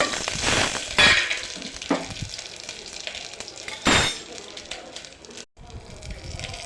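Cumin seeds dropped into hot oil in a pan with a torn bay leaf and two green chillies, frying for jeera rice, giving a steady crackling sizzle with a few sharper bursts, close and fairly quiet.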